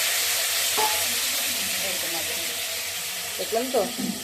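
Potatoes sizzle and fry in hot oil in a pan as a steady hiss, with a few brief stirring scrapes and a short spoken remark near the end.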